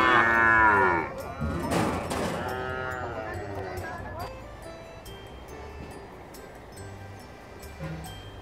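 Carabao or cattle at a farm low loudly in a long drawn-out moo, then a second rougher bellow, followed by quieter outdoor background with faint voices and rustling.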